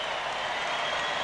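Large stadium crowd at a beach volleyball gold medal final cheering and applauding, a dense, steady wash of clapping and roaring from a distance, with no gaps.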